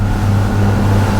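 A Fjord 41XL motorboat runs at speed, its engine giving a steady, loud, low drone with constant water and wind rush and no talking.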